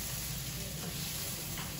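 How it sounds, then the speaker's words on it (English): Peppers and cabbage stir frying in oil, a steady soft sizzle and hiss from the pan that continues evenly throughout. "I'm still stir frying my vegetables, my peppers, my cabbage,"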